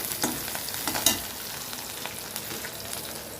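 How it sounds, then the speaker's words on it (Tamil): Thoothuvalai leaves and chutney ingredients sauté in a hot pan, with a steady close sizzle and a few sharper crackles and scraping stirs near the start. "இந்த தூதுவளை நல்லா வதக்கி விட்டுருங்க."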